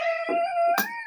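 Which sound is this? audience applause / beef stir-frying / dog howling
dog howling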